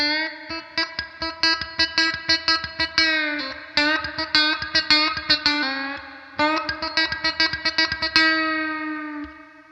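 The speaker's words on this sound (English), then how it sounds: "I guess we'll start with the most simple way to chicken pick" A twangy, slightly distorted electric guitar plays a fast, snappy chicken-picking lick of short plucked notes with bright, percussive attacks and a touch of echo.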